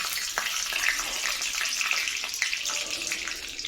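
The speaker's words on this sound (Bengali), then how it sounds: "দেখো বাদামটা হালকা ভাজা হয়ে গেছে" Peanuts and chopped chili fry in hot oil in a pan, giving a steady, close hissing sizzle with scattered small pops and crackles and no talking.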